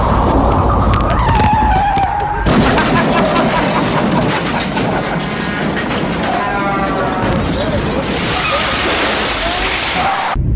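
A car drives over a bumpy Tennessee road, giving a loud, steady rumble of road and engine noise with rattles, jolts and shaking bumps throughout.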